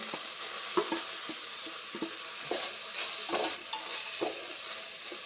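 A ground paste of garlic, coconut, peanuts and sesame is stirred into fried onion and tomato in a pan, with soft scraping strokes and occasional spoon knocks over a steady low sizzle.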